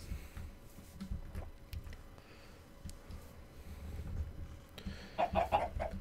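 Chickens clucking in a Minecraft chicken farm, short game-style clucks scattered over a low background rumble, with a quick cluster of clucks near the end.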